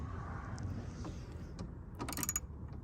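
A socket wrench on an extension works a bolt loose on a 2018 Ram 2500 Cummins during a headlight install, faint scraping clicks followed by a short rapid ratcheting burst near the end over a low hum.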